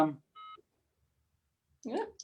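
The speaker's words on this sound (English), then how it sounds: "I've just got a phone call coming in on my phone." An incoming call on a phone sounds as a short, clear electronic tone of about a quarter second, set between a man's speech just before and after it.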